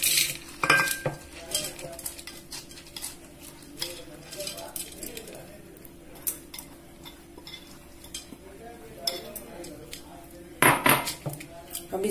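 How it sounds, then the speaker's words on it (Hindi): Mixed mung, toor and chana dal tumbling into a pressure cooker while preparing dal for dal baati churma, heard as scattered clinks and rattles against metal with kitchen utensil clatter throughout, fairly close, no talking. "अब कुकर में दाल डालते हैं।"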